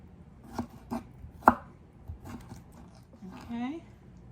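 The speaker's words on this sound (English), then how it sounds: "I'm just making thin cuts across the pickle" A knife makes thin cuts across a pickle on a board for deviled eggs, a handful of soft, separate chopping taps, close and fairly quiet, with a low voice nearby.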